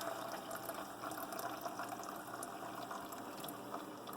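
Keurig coffee maker water pump pumping water, a steady continuous liquid rush and hum with a faint gurgle, even in level and close by, no talk over it.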